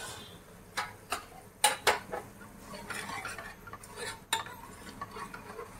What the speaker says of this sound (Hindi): इसे भी अच्छे से भूनेंगे।